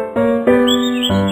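Synthesized bird chirps in a children's counting song for babies and toddlers, three bright tonal calls in quick succession over a sustained musical backing, loud and close.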